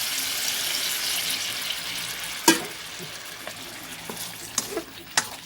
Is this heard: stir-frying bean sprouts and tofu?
yes